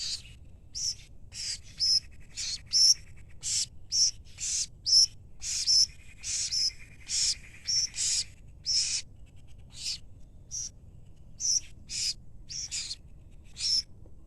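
Pet birds that were once chicks, heard as high, rapid chirps in repeated short bursts throughout, fairly close and clear over a quiet low hum.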